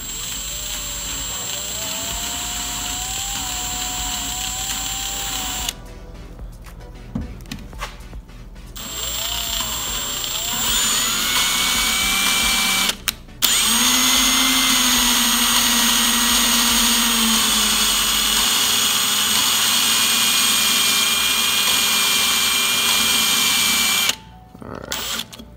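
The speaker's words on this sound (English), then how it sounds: "I prefer just to use a drill. And you just lightly put it on the valve there." Power drill spinning an engine valve of a CRF150R dirt bike, whirring in bursts, starting and stopping several times, with a steady whine and grinding tone during longer runs.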